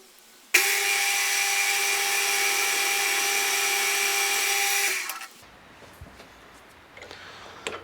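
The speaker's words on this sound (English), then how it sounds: "and then I'll drill it out 5mm" A power drill whirs loudly and steadily for several seconds, drilling out a 5mm hole while repairing a jockey wheel handle, then winds down and stops, leaving quiet shuffling and faint workshop noise.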